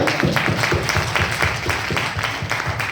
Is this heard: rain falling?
no